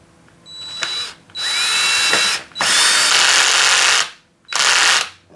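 A power drill tightens a wheel on a Xiaomi Hover-1 scooter during a tire and tube replacement. It comes as four loud whirring bursts, each a second or so long, with short pauses and faint clicks between them.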